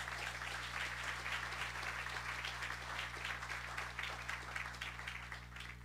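A church congregation applauds steadily through the whole stretch, a dense, sustained wash of clapping with a low hum beneath it and no speech over it.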